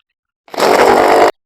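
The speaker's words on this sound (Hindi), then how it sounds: "तो अभी हम फिर ड्रिल की मदद से यहाँ पे होल करेंगे।" A power drill bores holes for rawl bolts while a solar panel is mounted on its fitting stand: one close, loud, steady burst of high-speed whirring that starts abruptly, lasts under a second and cuts off sharply.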